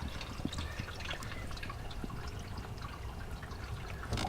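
Rainwater drips and trickles into a Land Rover Discovery 2, a faint, irregular patter of drops over a steady wet background hiss.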